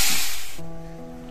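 Water poured into a pan of curry sets off a loud, close, steamy hiss that fades after a moment into a quieter bubbling simmer with a faint tonal hum.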